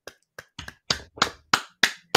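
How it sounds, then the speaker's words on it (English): A handful of separate hand claps, about eight slow, evenly spaced smacks with silence between them, fairly close and quiet, as at a small live-streamed fellowship event. "So let's give them all a round of applause."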